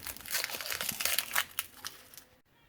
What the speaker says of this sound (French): on va éplucher notre oignon